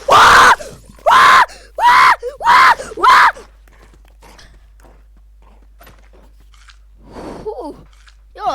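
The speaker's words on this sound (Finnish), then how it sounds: "Joo, sori jos huusin." A player screams loudly in five sharp, closely spaced bursts while being startled by a wolf in the Lego Fortnite video game, followed by quieter breaths, faint mouth sounds and a short whiny vocal sweep near the end.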